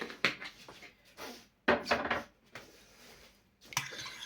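A spoon clinks and scrapes in a dish while garlic and black pepper are stirred into hake for baking in tomato sauce; a few sharp clatters stand out, close and fairly loud, with quieter shuffling between them.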